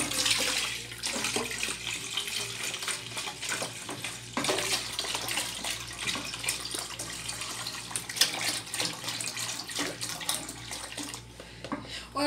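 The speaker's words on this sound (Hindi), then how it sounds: "उसके अंदर हम दूध डालेंगे।" Milk poured into a cooking pot for custard makes a continuous close gushing, splashing flow throughout, with no speech.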